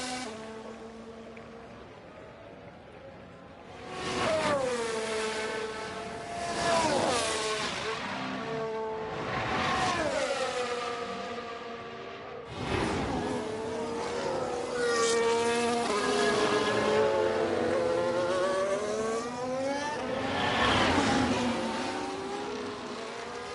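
Formula 1 cars in the F1 Manager 23 video game at Zandvoort during qualifying, engines screaming past in repeated whining pass-bys with rising and falling pitch, one car after another, loud and close.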